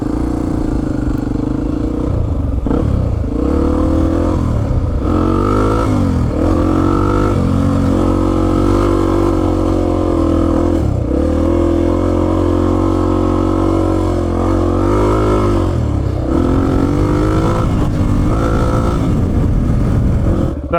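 A Honda XR250 dirt bike engine runs loud and steady throughout a ride, rising and falling as the rider shifts and throttles, with wind buffeting and no talk.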